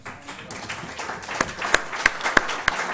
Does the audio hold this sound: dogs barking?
no